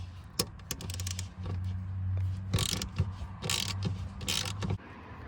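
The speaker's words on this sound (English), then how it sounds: "use your T50 Torx bit to remove that front bolt" A T50 Torx bit driver turns out a factory front seat bolt in a Next Gen Ford Ranger or Amarok, giving close, uneven mechanical clicks and ratcheting bursts over a low hum.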